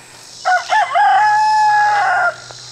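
A young rooster in a pen of young roosters crows once, loud and close, with a stuttering start that stretches into a long, drawn-out call lasting about two seconds.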